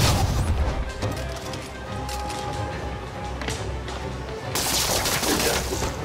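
Criminals open fire in a Spider-Man video game, with dense bursts of gunshots and booms crackling throughout over game noise, growing louder and harsher near the end.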